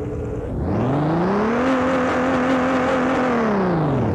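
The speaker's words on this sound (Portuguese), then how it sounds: "Já dá um corte de giro pra esquentar o motor." A Chevrolet Camaro engine in the Brazilian car game Rebaixados Elite Brasil is revved to warm it up. It climbs sharply from idle, holds a loud, close, buzzing high rev, then winds back down in one rev.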